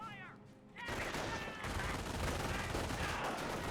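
MG 42 machine gun firing in the Company of Heroes video game, a dense sustained burst of rapid gunfire that kicks in after a brief quieter opening and runs to the end, with a voice talking at the start.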